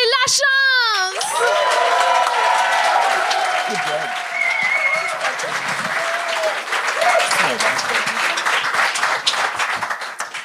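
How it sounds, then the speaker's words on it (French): Applause and cheering from a comedy show audience as the comedian Xavier Lachance is introduced, with a high shriek at the start, then steady loud clapping and scattered shouts throughout. "faites un tonnerre d'applaudissements pour Xavier"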